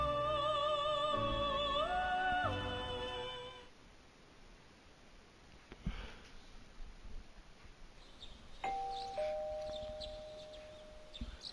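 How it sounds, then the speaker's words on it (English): A doorbell rings in the video game Persona 4 Golden, two clear chimes near the end over a quiet, hissy background, after a fading melodic game tune. "You hear the doorbell ringing."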